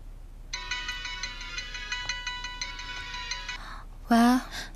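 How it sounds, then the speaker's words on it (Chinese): A phone ringtone plays an unanswered call, a bright repeating electronic melody pulsing steadily for about four seconds before stopping, followed by a short burst of a louder tonal sound at the end. "怎么不接电话呀？"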